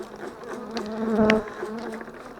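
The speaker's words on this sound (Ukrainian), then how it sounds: "А як жаляться, якісь злі бджоли" Bees buzz insistently close by, a droning hum that swells louder in the middle and then eases back.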